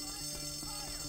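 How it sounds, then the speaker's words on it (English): A fire alarm rings steadily through a school in the Bully video game, a continuous buzzing, bell-like tone that runs unbroken and fairly faint under background game sound. "Where's another fire alarm?"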